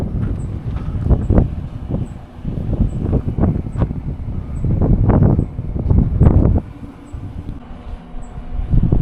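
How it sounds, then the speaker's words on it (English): Strong wind buffets and roars in uneven gusts, loud and close, with low rumbling surges rising and falling throughout and no voices. "It's a really windy day,"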